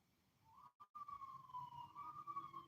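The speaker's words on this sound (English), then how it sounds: "I just heard a siren." A distant emergency vehicle siren wails outdoors, faint and steady, with a rising tone under low background noise.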